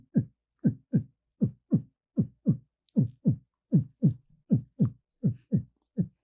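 A performer's voice imitates a heartbeat in a steady lub-dub rhythm, about fourteen paired thumps over six seconds, close and distinct, with no other sound around it.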